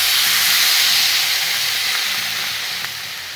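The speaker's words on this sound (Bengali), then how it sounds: "একটু সেদ্ধ করতে হবে আমাদের সেমাইটা" Vermicelli (semai) simmers in water in a pot, a steady loud bubbling hiss that slowly fades toward the end.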